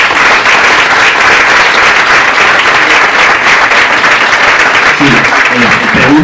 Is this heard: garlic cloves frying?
no